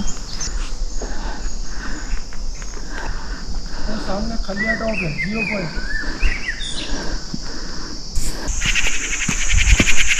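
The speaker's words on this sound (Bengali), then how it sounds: "ঝিঝি পোকার অবিরাম ডাক শোনা যাচ্ছিল" Steady high cricket chirring runs throughout alongside a broad outdoor hiss, with a few scattered bird calls and shuffling sounds mixed in, in hill forest near Thamri Kund, Munsiyari, Uttarakhand.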